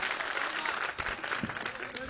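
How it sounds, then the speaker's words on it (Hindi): A crowd at a live show claps loudly and continuously, a thick wash of hand claps with cheering voices blended in throughout. "एक बार जोरदार तालियां बजा के बताओ।"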